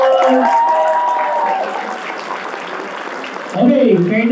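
A large seminar audience of around a thousand people claps together in a hall, broad sustained applause with a speaker's amplified voice over it at the start and again near the end.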